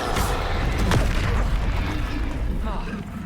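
Confringo fire spell cast in Hogwarts Legacy, a loud booming blast with a rolling crackle, heard over dense game sound, with a voice speaking at the start.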